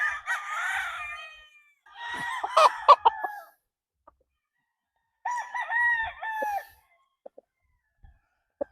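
A gamefowl stag, a 3/4 5K Sweater and 1/4 Boston Roundhead cross, crows loudly and close, three long cock-a-doodle-doo calls separated by pauses, with faint clucks and ticks between them.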